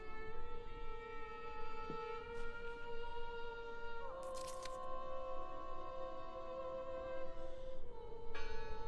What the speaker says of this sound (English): Listen! The bell! They're still in there!